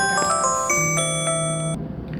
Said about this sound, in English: so that was my alarm telling me it was time to get up and get ready for work